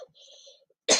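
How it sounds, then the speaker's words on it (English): A single sharp cough bursts out at the end after a brief near-silent pause with faint murmuring. "Sorry, just a bit of a cough there."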